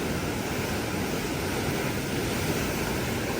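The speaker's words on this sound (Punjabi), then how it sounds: "ਬਹੁਤ ਜ਼ਿਆਦਾ ਪ੍ਰੈਸ਼ਰ ਨਾਲ ਪਾਣੀ ਜਾਂਦਾ" A steady, loud roar of the Sutlej River rushing under high pressure, unbroken and dense, like a powerful current surging past nearby.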